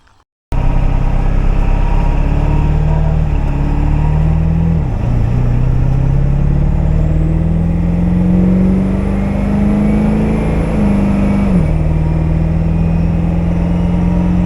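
A car drives along steadily after a brief quiet start, its engine droning loudly from inside the cabin with smooth gear shifts that drop and rebuild the pitch, and no talking over it.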